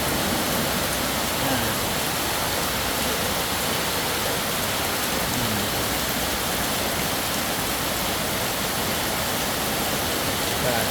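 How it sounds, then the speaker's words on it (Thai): Heavy rain pours down in Tha Muang, Kanchanaburi, with runoff water rushing along the ground, making a steady, loud, dense wash of noise that stays constant for the whole stretch. "ที่ท่าม่วงฝนตกเรียบร้อยนะครับ"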